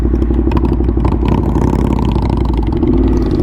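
Ducati Monster motorcycle fitted with an SC Project exhaust, heard while riding: a loud, continuous engine roar with rough clatter and rising revs throughout, no talk over it.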